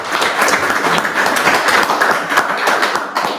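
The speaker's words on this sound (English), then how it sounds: "So let's give them a round of applause." Audience applause fills a real-estate market event in Washington DC, a dense, steady wash of many hands clapping at close range for several seconds with no talk over it.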